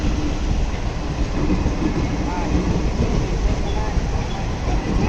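A train rolls past at the Puntamba railway crossing, a loud, continuous rumble with rattling wheels and carriages close by, holding steady throughout.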